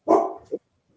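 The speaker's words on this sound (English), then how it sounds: "I wonder how the dogs got in here." An indoor dog gives one loud close bark followed by a shorter second bark, then silence.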